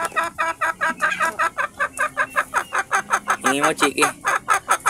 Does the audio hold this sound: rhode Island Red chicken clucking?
yes